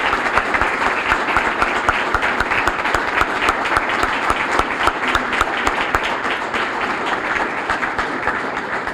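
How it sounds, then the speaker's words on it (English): Loud, sustained applause from an audience at a police awards ceremony honoring citizens, a thick even roar of many hands clapping throughout with no talking on top. "Let's give Ms. Rollins a loud round of applause."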